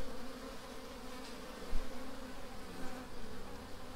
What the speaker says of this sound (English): You will observe that they're fanning at the entrance